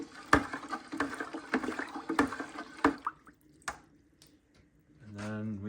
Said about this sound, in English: I'm just gonna stir it up in there and let it mix up.